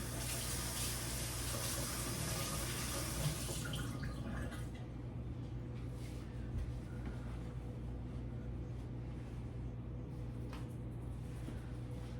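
Hands washed under a running kitchen tap while making sourdough bread, a steady close rush of water that lightens partway through into softer trickling and splashes, with no talk.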